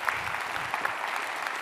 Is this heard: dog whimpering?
no